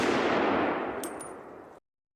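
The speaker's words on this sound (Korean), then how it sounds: "정적을 깨는 총소리가 날카롭게 울려 퍼졌다" A gunshot effect in an audio drama: a sharp, loud burst that decays over under two seconds, with a couple of faint metallic clinks toward the end and no voices.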